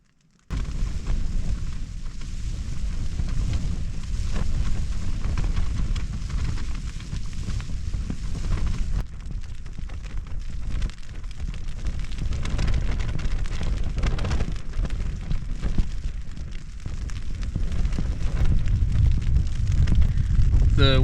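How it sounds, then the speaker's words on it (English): Wind and rain beat steadily on a tent pitched on a Scottish coast by the sea, a loud continuous roar and patter with gusts building toward the end. "The wind and rain's picking up a bit."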